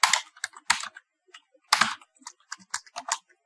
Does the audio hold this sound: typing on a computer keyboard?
yes